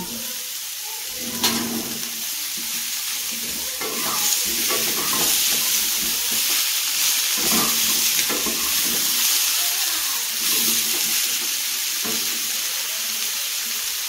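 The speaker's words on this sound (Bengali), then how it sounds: "এর মধ্যে এখন আমি দেবো ওই টমেটোর দুটো কুচি, আর দেবো আদা রসুন যেটা গ্রেট করে রেখেছিলাম" Chopped tomato with grated ginger and garlic frying in hot oil, a loud, close sizzle with repeated stirring scrapes and clicks of a spatula against the pan.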